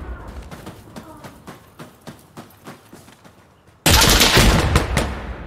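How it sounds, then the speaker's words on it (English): Gunfire in the video game Insurgency Sandstorm, with a steady series of evenly spaced shots followed by a sudden loud, sustained roar of close shooting and blasts. "Dude, stop shooting me."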